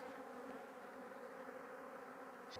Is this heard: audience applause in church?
no